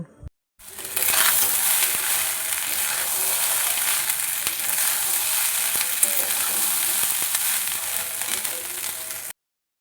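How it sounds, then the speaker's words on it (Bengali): Rice frying in a pan with capsicum, cashews and raisins: a loud, continuous sizzle that starts abruptly and holds for about nine seconds, with scattered stirring clicks and no talk. "একটু ক্যাপসিকাম আর দিয়ে দেবো সামান্য পরিমাণে কাজু কিশমিশ দিয়ে ভাতটা ভেজে নেব"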